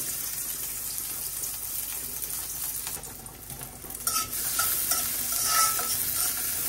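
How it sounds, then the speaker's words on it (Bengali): Chopped onion and garlic fry in a pan with a loud, continuous sizzle and stirring scrapes, the hiss swelling and growing brighter toward the end. "আগে একটু ভেজে নেই। এই যে দিয়ে দিলাম পেঁয়াজ কুচি আর রসুন কুচি।"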